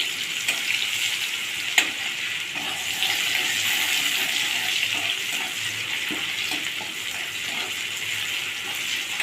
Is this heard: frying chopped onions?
yes